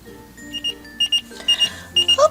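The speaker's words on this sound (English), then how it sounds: "Oops, that's the oven timer." A kitchen oven timer rings in a toy play scene, a bright electronic alarm of repeated beeping bursts that grows more insistent, sounding alone and close.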